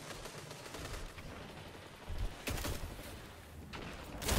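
Auto rifle gunfire in the Destiny 2 video game, a steady low crackle of fairly quiet rapid shots with a few sharper bursts standing out, rolling on continuously without speech.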